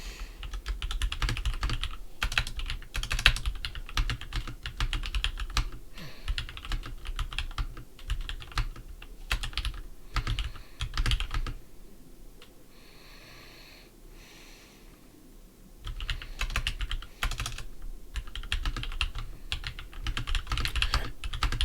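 Fingers type on a computer keyboard in steady runs of quick clicks, close and clear, pausing for a few seconds midway before resuming, with occasional sniffs and breathing.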